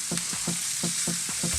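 Mushrooms sautéing in a pan for a pork chop cream sauce, a steady close sizzle broken by a few soft rhythmic stirring scrapes, no voices.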